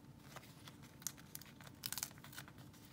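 Backing is peeled from a 4 by 4.5 inch adhesive sheet for a cardstock envelope, giving soft crinkling and faint tearing rustles with a few sharper crackles, close and quiet, with no talking.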